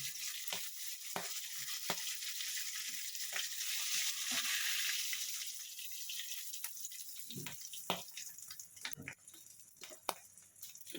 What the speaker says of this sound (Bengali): মাছটা ভাজা হয়ে গেছে, আমি তুলে নেব মাছটা